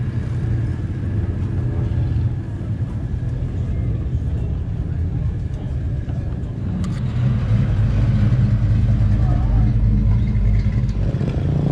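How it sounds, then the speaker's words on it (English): A blown Boss 598 engine in an International pickup at a truck show rumbles at a steady idle, deep and loud up close, swelling slightly toward the end amid outdoor show noise. "this blown Boss 598 International pickup"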